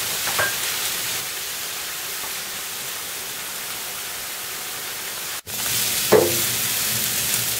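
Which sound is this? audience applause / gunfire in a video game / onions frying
onions frying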